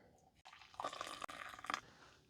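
About six ounces of water are poured into a 1998 US Long Range Patrol MRE beverage pouch, giving a brief, quiet, close splashing trickle that swells and stops within about two seconds.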